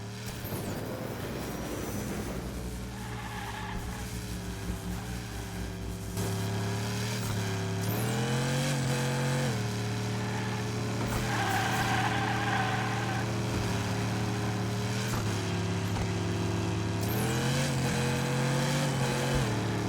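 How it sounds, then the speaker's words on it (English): Toy cars racing in the video game Hot Wheels Unleashed, running at 720p on low settings: a steady, continuous whining engine drone with pitch swoops as cars accelerate, loud throughout and with no talking. "here's Hot Wheels Unleashed. This is on 720p, low settings"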